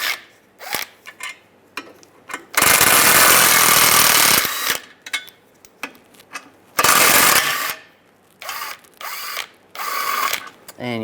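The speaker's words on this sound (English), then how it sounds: "Using a 13mm socket, take these three bolts out." Control arm bolts being removed with a 13mm socket on a 1998-2010 Volkswagen Beetle, a power tool blasts in two long loud bursts, with shorter ratcheting and clicking between them, close up.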